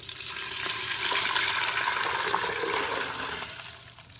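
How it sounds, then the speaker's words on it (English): Tap water pours into a colander holding beans, a steady, close rushing stream that swells slightly midway and then eases, with no talk. "So I'm just gonna fill up the rest with water."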